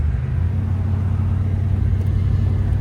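A 1964 Ford Mustang convertible with a 289 V8 drives with the top down, its engine giving a steady low rumble with road and wind noise. The sound stays continuous and fairly loud with no voices.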